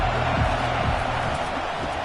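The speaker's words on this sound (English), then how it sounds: "this crowd is letting them have it" A stadium crowd at a football game roars and boos in a dense, continuous wash of noise, loud and sustained throughout.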